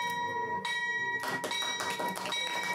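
A bell at the BRVM stock exchange rings out with bright, sustained metallic tones, struck repeatedly so the chimes overlap and ring on, with a faint room murmur underneath.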